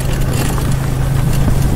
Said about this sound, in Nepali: हामीले डुक ल्याएको छौँ त्यही पनि अलिक ढुक ढुक गर्दैछ डुकले